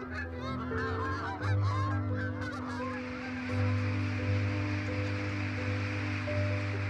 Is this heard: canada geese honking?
yes